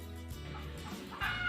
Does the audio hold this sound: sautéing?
no